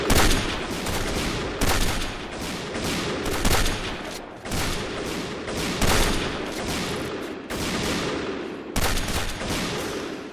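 Dense gunfire from the shooter game Point Blank, a continuous fusillade of rapid rifle shots with brief pauses between bursts, loud and close throughout.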